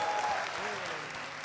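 Short burst of audience applause at a motivational speech event, crowd clapping heard under a speaking voice for a moment.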